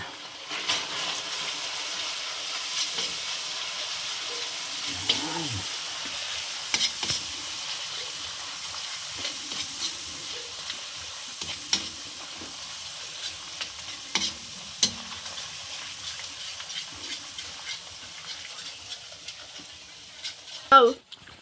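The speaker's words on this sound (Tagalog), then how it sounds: "Saka natin haluin." Shrimp, seafood and glass noodles (sotanghon) being stirred in a pan give off steady soft sizzling with scattered scraping clinks and a few sharp knocks, while a voice speaks briefly partway through.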